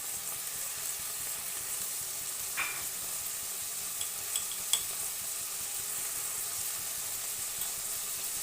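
Green peas frying in a pan with salt as they are stirred, a faint steady sizzle with a few soft scrapes and light clinks of the utensil against the pan.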